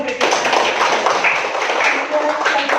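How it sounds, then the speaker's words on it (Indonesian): Students in an Indonesian-language classroom clap together on the teacher's cue, a dense, steady patter of many hands lasting nearly three seconds, close and fairly loud, with some voices mixed in. "tepuk tangan"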